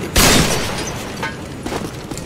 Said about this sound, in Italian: Cron, guarda lo sparo dalla finestra